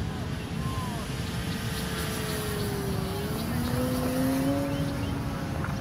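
A small engine buzzes steadily overhead, its pitch sliding up and down as the model plane banks, with a low wind rumble underneath.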